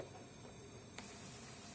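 Onions fry in oil with a faint, steady sizzle and hiss throughout and a small click partway through, with no talking.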